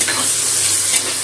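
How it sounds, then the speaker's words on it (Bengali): Chopped onions frying in hot oil in a pan, three medium onions for a roasted onion chicken, giving a steady, close, dense sizzle throughout with no talking. "পেঁয়াজটা ভেজে নেব।"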